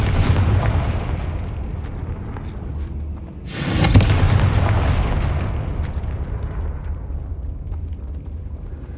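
A Confringo spell explodes in Hogwarts Legacy: a sharp, loud blast midway over ongoing rumbling game noise, followed by a long, slowly fading roar.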